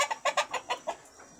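Free-range village chickens cluck in a quick series of short, sharp calls, about eight in a row, close by and fading toward the end.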